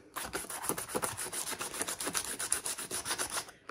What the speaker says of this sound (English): Hence why I've got the sandpaper out as well.